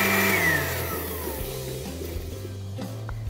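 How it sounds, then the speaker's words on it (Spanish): A blender whirs through chicken adobo marinade with mustard, loud at first as its motor pitch slides down, then settling into a lower, uneven grind. "Así que todo lo vamos a licuar."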